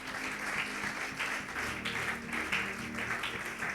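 Steady applause from a congregation at a French-language prayer retreat, acclaiming the Lord; dense, even clapping fills the whole stretch at moderate loudness with no voice over it.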